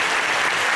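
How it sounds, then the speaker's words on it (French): A brief burst of dense crowd clapping at a magic show, loud and continuous, with no pauses. "Et Didier, on va pouvoir lui faire un tonnerre d'applaudissements encore une fois."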